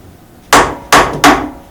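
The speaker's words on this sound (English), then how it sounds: "tap it down so that the parallels are completely tight" Three sharp hammer taps on a workpiece clamped over steel parallels in a milling vise, evenly spaced about a third of a second apart, close and loud with short ringing decays and no talk.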